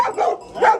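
A dog barks twice close by, two short sharp barks separated by a brief pause.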